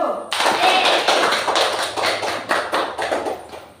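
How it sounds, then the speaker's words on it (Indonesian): A classroom of primary school children claps for a group, with sharp, rhythmic hand claps in a quick repeated beat, close and loud, starting after a brief pause. "tepuk tangan untuk kelompok 1."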